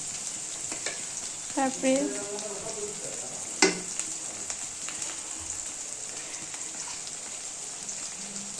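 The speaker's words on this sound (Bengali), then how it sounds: "রসুন দিয়ে সুন্দর করে আবার নাড়াচাড়া করব" Garlic, ginger and spices frying in a pan while being stirred, giving a steady crackling sizzle with a few scraping strokes and one sharp clink, heard up close.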